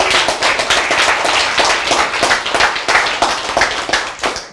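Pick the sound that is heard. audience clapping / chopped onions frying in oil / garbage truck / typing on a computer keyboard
audience clapping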